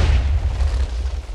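Several TNT explosions in Minecraft go off back to back, a rolling, rumbling blast with deep booms that keeps up for over a second. Nobody speaks.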